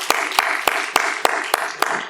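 A church congregation claps in a slow, even rhythm, about eight sharp unison claps across two seconds, close and moderately loud.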